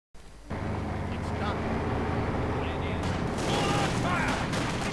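Video-game battle noise combines a rifle grenade with MG42 machine-gun fire around a church, a dense, loud continuous roar of shots and blasts under a speaking voice.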